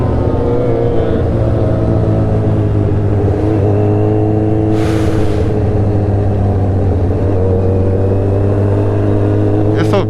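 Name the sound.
Ducati Monster motorcycle engine passing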